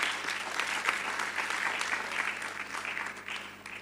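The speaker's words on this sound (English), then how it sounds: "Request a round of applause from the audience." An audience at a management institute's annual convocation ceremony applauds steadily for several seconds, a moderately distant, even clatter of many hands that tapers slightly at the end.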